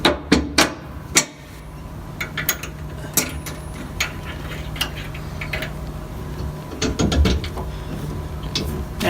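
Metal parts of an Anderson 5th wheel hitch clank and ratchet as the ball height is set to its lowest of three positions, with a few sharp knocks early on, then quieter scraping and clicking close by, no voices.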